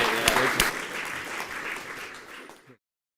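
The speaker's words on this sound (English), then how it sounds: "it's really a huge round of applause" Conference audience applauding, with a couple of sharp close claps near the start over a dense wash of clapping that gradually tapers off and cuts to silence.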